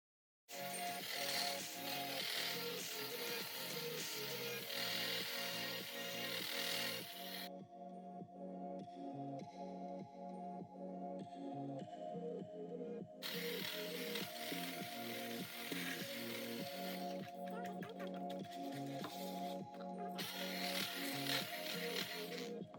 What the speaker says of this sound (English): It's time to whisk.